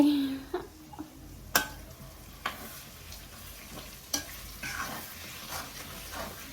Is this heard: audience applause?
no